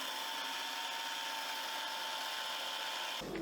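A mixer grinder whirs at high speed as it grinds sugar into powder, a loud, steady, close motor whine that cuts off abruptly just before the end.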